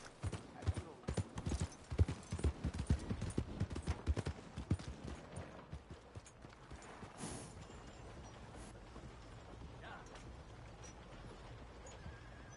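Hooves clip-clop in a quick trotting rhythm in the video game Red Dead Redemption 2, then give way to a steady low rumble; a horse whinnies amid the movement.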